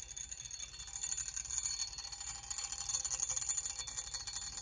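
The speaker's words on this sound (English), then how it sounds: "Oh, I'm hearing the alarm bell." A Telechron alarm clock bell rings continuously in a rapid metallic rattle, steady and fairly loud, with no talking over it.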